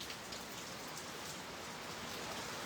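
Heavy rain pours down in Manila, a dense, steady hiss of falling water that fills the whole stretch evenly and loudly, with no voices or other sounds on top.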